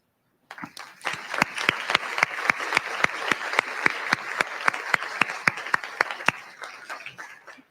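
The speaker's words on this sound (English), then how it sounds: "So if you all would please stand for a round of applause." Audience members standing for education foundation board members give a round of applause, a moderately close burst of clapping with several sharp, distinct claps standing out in a steady rhythm before it tapers off.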